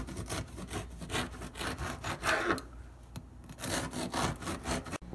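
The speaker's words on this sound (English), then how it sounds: "Don't press down too hard, just keep sawing." Close, rhythmic rasping of a knife sawing back and forth through crisp, crunchy chocolate almond biscotti, with no talking.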